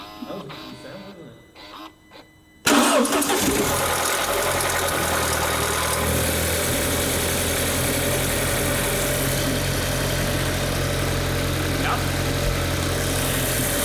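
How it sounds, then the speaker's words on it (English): Audi A4 Avant engine cranking and catching after an oil service, settling into a loud, steady idle close by; brief talk precedes the start. "so should be startup time now"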